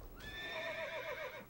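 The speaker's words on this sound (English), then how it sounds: "That is one strong horse." Horse in World of Warcraft whinnies once in a single clear, rising-then-wavering neigh about a second long, fairly faint, with no talk over it.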